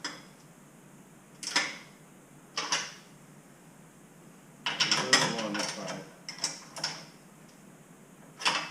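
A Corvette Z06 exhaust X pipe having its bolts tightened against a gasket, a ratchet wrench clicking in short bursts separated by pauses, close and crisp.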